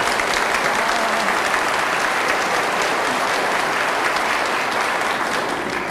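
A studio audience at a 1985 Czech entertainment program applauds in a sustained, even burst of clapping, full and close, with no break for the whole stretch.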